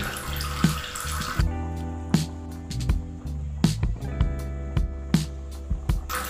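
Warm water pours steadily into a cooking pot of Bicol-style humba braise already holding soy sauce, pineapple juice, whole peppercorns and bay leaves. The stream runs continuously at close range, with light knocks and clinks and no talking.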